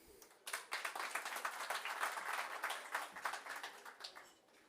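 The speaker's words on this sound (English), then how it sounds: "another round of applause for the Honorable Governor" At the MTN & MN Top 20 grand reveal in Namibia, an audience breaks into steady applause after the governor's speech, many hands clapping at a fairly distant, modest level before it fades.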